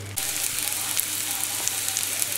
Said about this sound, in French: Je fais fondre le beurre dans la poêle.